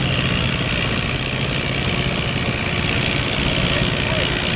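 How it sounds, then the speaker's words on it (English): A Farmall C or Super C tractor engine pulling at a tractor pull, a steady, loud mechanical drone that holds constant throughout with no voices over it. "it looks like we got a Farmall C or a Super C pulling right now"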